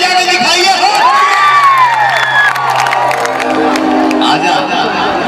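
Audience at a Bhojpuri music show cheering and clapping, a loud close crowd roar with shouts and whoops over a sustained voice and stage sound.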